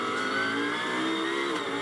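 Onboard engine of a British GT race car climbing toward Druids at Brands Hatch during a 2024 race, a loud, close, steady high-pitched roar with dense harmonics that holds for the whole stretch.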